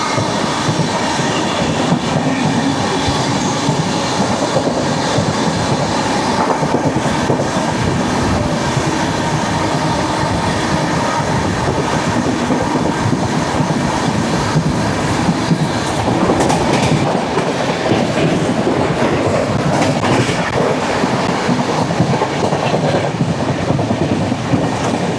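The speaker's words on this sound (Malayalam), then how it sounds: "കണ്ടെയ്നർ ട്രെയിനായിരുന്നു." A long container freight train on a dedicated freight corridor rumbles past nearby, its wheels clattering rhythmically over rail joints in a loud, unbroken stream of steel-on-steel noise.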